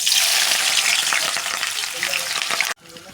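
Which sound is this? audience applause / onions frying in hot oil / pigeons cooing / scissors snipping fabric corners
onions frying in hot oil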